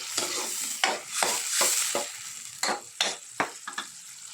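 Tochong bangus, a milkfish stew, stirred in a pan with a utensil: a run of short scraping strokes, some quick and clustered, over a faint sizzle.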